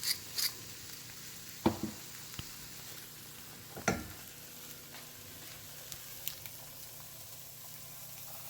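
Two large eggs fry in a cast iron skillet with a soft, steady sizzle, broken by a few sharp clinks and taps from a utensil against the pan.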